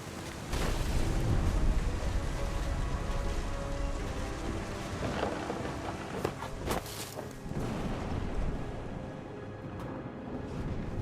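Heavy rain pours steadily throughout a thunderstorm in the video game What Remains, with a few sharp thunder cracks and rumbles around the middle, loud and close, no talking.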